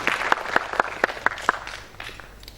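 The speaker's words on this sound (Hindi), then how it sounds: "एक जोड़ा ताली" An audience at a ceremony honouring guests claps in a steady rhythm of sharp, evenly spaced claps, fairly close and loud, then fades into scattered softer clapping.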